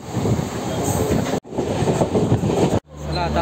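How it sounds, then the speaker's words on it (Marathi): Mumbai suburban local train running between Thakurli and Kalyan, a steady broadband rumble with rhythmic clatter, briefly cut twice, with a low hum at the end. "त्यानंतर ते स्लो ट्रेनने आपल्याला कल्याणला जावं लागेल।"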